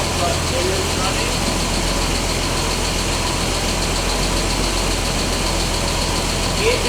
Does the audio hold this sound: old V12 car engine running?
yes